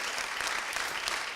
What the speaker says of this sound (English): we get to clap for that right now, really loudly